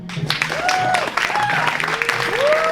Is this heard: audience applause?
yes